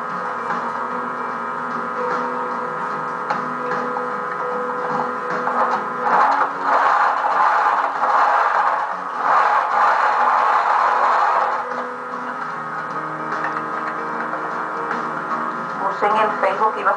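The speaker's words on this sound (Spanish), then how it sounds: "vamos, cosemos primero esta parte, ¿no?" A sewing machine stitches pieces of lingerie with a steady mechanical whir and rapid ticking. It grows louder in the middle, and a voice talks intermittently over it.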